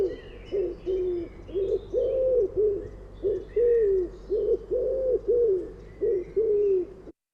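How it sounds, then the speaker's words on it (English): Wood pigeon song in Monkstown: a run of repeated low, hooting coos in five-note phrases, fairly close and clear, with faint other birdsong high in the background and no talking. "Wood pigeon, 5 notes."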